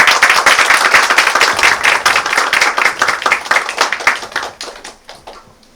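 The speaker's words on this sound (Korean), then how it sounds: "큰 박수로 맞이해 주시면 감사하겠습니다." Audience applause in a university lecture hall greets a biotech company CEO arriving to give a talk on the pharmaceutical and bio-health industry, loud and dense at first, then thinning into scattered claps and fading out.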